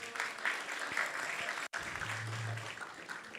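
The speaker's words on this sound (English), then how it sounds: "Please give him a round of applause also" Applause from an audience at a Narasimha Chaturdashi temple gathering, a soft, steady wash of clapping heard from a distance for a few seconds, briefly cut off midway.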